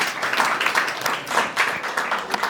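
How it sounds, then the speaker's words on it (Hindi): Church audience at a youth committee preaching event in Nepal clapping to welcome a preacher, dense hand claps with loose rhythmic surges, fairly loud and close throughout. "उहाँलाई पनि हामी जोरदार ताली बजाएर हामी स्वागत गर्नेछौँ।"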